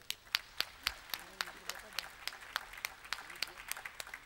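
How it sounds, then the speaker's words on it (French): Scattered audience claps at a live song performance, sharp individual hand claps in a loose steady rhythm, thin rather than a full ovation, mixed with quiet talking. "donc vous pouvez l'applaudir."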